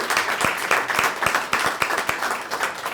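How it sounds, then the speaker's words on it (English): A school-event audience applauds its sponsors, a steady rain of many hands clapping, with a few sharp, close claps standing out regularly across three seconds and no speech over it. "If we could give them a big round of applause."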